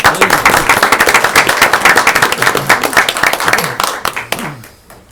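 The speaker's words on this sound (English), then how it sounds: "Let's give them a round of applause." A crowd claps steadily in sustained applause at a board of education meeting, tapering off at the end, with some voices mixed in.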